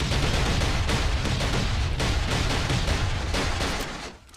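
Explosives blast through a door in Last Island of Survival, a loud sustained barrage of rumbling detonations packed closely together for several seconds, then cutting off abruptly, heard alone without speech.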